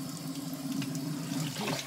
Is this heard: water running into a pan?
yes